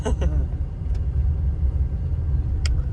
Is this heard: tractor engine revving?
yes